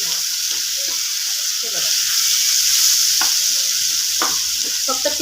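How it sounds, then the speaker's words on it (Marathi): Cumin seeds hit hot oil in a home kitchen pan and give off a continuous bright hiss, with soft stirring scrapes underneath and a brief spoken phrase over the top. "आता यामध्ये मी थोडेसे जिरे टाकणार आहे"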